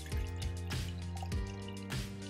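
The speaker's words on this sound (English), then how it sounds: "Any single time you want to pour in your coffee, just pour it in, obviously with ice." Cold brew coffee is poured over ice, giving a close, steady liquid pour with a few rising glugs and drips as the glass fills. No one speaks.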